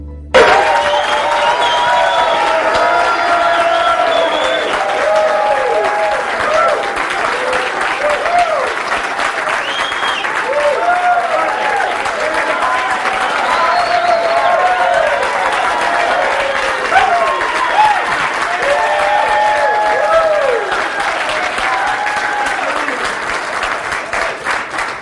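Sustained audience applause fills the room for Dr. Neil Solomon, author of books on noni juice, a dense steady clapping from a large crowd lasting throughout with faint voices mixed in.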